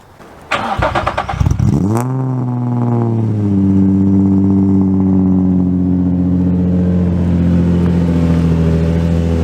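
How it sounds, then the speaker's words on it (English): A Nissan VQ engine cranks over and fires up, flares briefly, then settles into a steady, smooth idle that stays loud and close with a constant even hum. "That's a smooth running VQ, boys."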